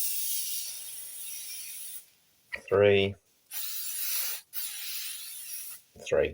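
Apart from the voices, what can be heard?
perfume spray on arms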